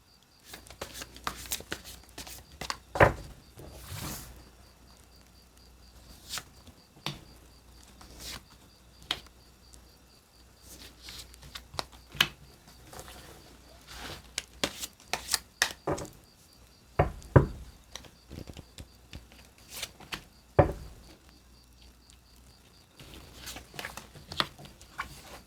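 Tarot cards being shuffled and drawn for a reading, heard as scattered soft flicks, slaps and taps at irregular intervals over a long, quiet stretch.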